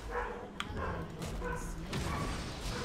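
Dogs bark and yip in short bursts somewhere in the background, a few sharp calls over a constant mechanical hum.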